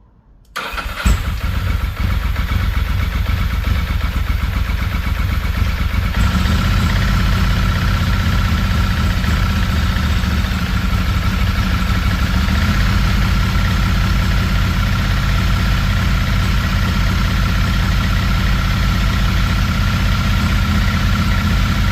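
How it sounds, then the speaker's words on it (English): A Ducati Desmoquattro motorcycle engine cranks and fires up after a brief silence, then settles into a loud, steady idle close by for the rest of the time, with no talk over it. "we're just going to turn that engine over and see if that disappears"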